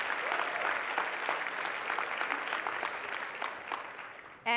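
An audience applauds loudly and steadily with dense, sustained clapping that fades slightly toward the end before a voice cuts in.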